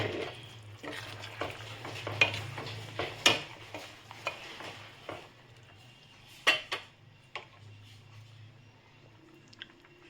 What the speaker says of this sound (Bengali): এবার আমি এই চিকেন কোপ্তাগুলো এর মধ্যে দিয়ে দিচ্ছি